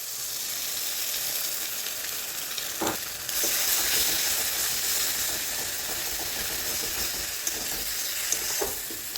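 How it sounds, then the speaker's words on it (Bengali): Two cracked eggs hit hot spice masala in a pan for an egg bhujia, setting off a loud, steady close sizzle with occasional stirring knocks. "এখন এর মধ্যে দিয়ে দেব দুটো ফাটিয়ে রাখা ডিম"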